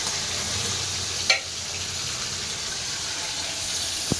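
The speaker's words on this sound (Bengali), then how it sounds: "চিংড়ি মাছটা ভেজে শাক ভাজাটা চাপিয়ে দেবো" Shrimp frying in a pan, a soft continuous sizzle with a brief utensil knock early on and a faint click at the end.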